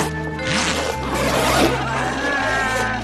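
A zipper on a school bag is pulled along in one continuous rasping stroke, close and moderately loud, with faint background voices.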